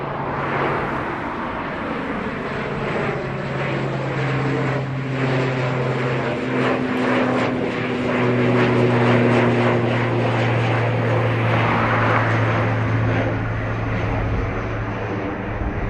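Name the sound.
ATR turboprop airliner taking off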